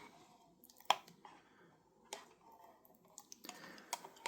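Crunchy muesli from a United Nations combat ration is chewed in faint, irregular crisp crunches and clicks, close to the mic with quiet pauses between bites.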